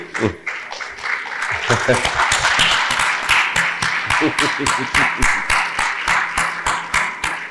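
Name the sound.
standing ovation applause for parents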